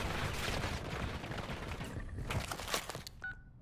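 Rapid automatic gunfire in MW3 Zombies rattles in dense bursts, then breaks off into a few sharper isolated shots and beeping game tones as the shooting stops.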